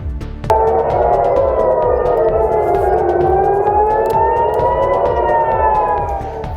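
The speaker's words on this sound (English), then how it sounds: "air raid sirens could be heard across the city" A loud civil defense siren wails steadily, its tone slowly rising and falling, filling the space with a sustained, droning howl.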